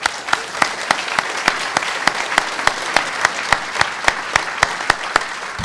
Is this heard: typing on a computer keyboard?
no